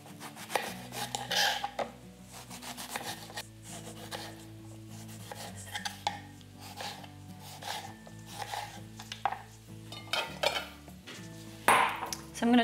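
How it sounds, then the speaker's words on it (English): A knife chopping persimmons into quarters on a board, giving a series of sharp taps and scraping cuts at an uneven pace over steady background music. "So I'm going to chop them up into quarters."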